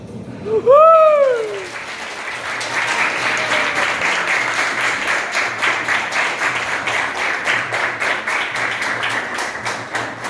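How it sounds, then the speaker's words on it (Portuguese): After a brief sung or whooped note, a group at an art exhibition breaks into applause, with rhythmic clapping emerging and continuing steadily to the end. "Palmas para mim"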